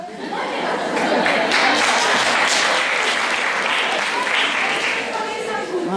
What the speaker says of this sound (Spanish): ese es el aplauso